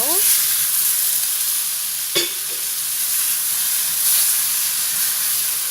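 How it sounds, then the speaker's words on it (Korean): Minced garlic sizzling in a pan with fried tomato, a loud steady hiss close up with one brief clink of a utensil, no talk. "토마토를 볶은 팬에 마늘을 넣으시고요."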